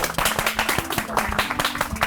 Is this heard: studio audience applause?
yes